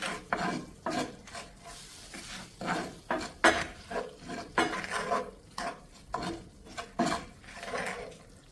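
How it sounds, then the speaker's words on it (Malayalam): Curry leaves and dried red chillies are stirred in a pan for Kerala-style sardine fry, with a steady run of rhythmic scraping strokes, each a short gritty swish, close and fairly loud. "എന്നിട്ട് നല്ലവണ്ണം ഇളക്കിയെടുക്കാം."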